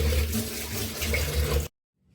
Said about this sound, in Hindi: अब इसको धो रहे हैं, ये पीस इसको धो रहे हैं।